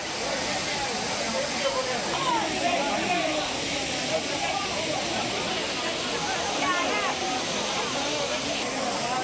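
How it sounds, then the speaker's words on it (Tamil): Water pours down at the Courtallam waterfalls, a continuous loud broadband rush filling the whole stretch with steady intensity, under a news narration voice. "குற்றால அருவிகளிலும் குறைந்த அளவில் தண்ணீர் கொட்டுகிறது"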